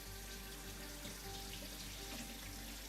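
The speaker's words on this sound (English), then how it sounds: "just wash the rice" Rice being washed under a running tap produces a faint, steady stream of water splashing into a sink, continuous throughout with no talk.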